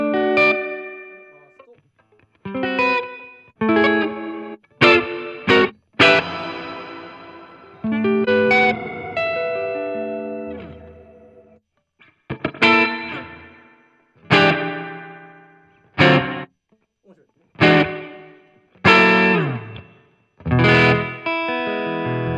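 An electric guitar through a Line 6 Catalyst amp plays chords and short phrases with the amp's reverb effect, each strum ringing out with a washy tail before the next.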